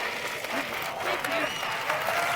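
Applause from a live audience after a spoken-word poetry performance, a continuous even wash of clapping hands that holds steady throughout.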